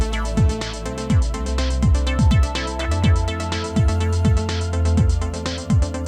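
Layered electronic music tracks with a synth accent line over a repeating bass pattern with descending pitch sweeps and a steady beat, dense and continuous, no talking.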